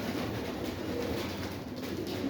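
Pigeons coo low and steady during an evening feeding in a pigeon loft, a continuous murmur of birds throughout with no talk.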